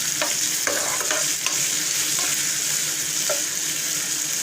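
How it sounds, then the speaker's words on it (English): Onions or vegetables for achari methi baingan frying in a pan while being lightly stirred: a steady, bright sizzle throughout with soft scraping stir strokes, close and continuous, no talking. "Giving it a light stir there"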